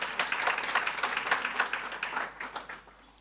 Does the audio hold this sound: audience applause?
yes